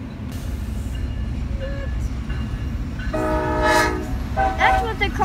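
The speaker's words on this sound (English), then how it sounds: "Oh, the CSX is going too. Yes, both trains are going." A CSX freight train rumbles steadily past a road crossing, and its horn sounds in blasts partway through, loud and fairly close over the low rolling noise.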